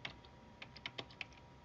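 Quiet keystrokes tap out a directory name on a computer keyboard, a handful of irregular clicks with brief pauses between them, close and soft.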